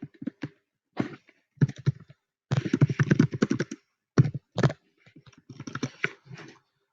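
Text is typed on a computer keyboard in uneven bursts of fairly close, crisp clicks separated by short pauses, with no voices.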